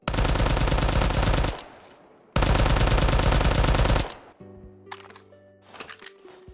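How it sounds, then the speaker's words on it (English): MP-40 submachine gun firing in the video game Phantom Forces: two long, loud full-auto bursts separated by a short pause, followed by mechanical reloading clicks and clacks. "this is what the MP-40 sounds like"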